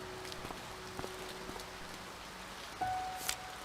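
Rain falling in the video game To The Moon, a faint steady patter with a few soft taps, followed near the end by a brief louder tone and rustle.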